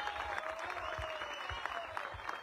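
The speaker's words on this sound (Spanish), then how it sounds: "quiero pedirle que esos aplausos sean fuertes para nuestros atletas" A crowd claps for cycling athletes at a ceremony honoring the Vuelta a Guatemala champion, a faint, distant patter of hands with a few soft low thumps mixed in.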